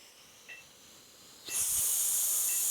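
A sudden loud, sustained hissing exhale bursts in after a quiet moment and holds steady to the end, breathy and close.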